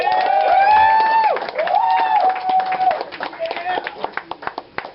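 Crowd cheers and whoops at a comedy show grow into scattered clapping that thins into separate claps toward the end.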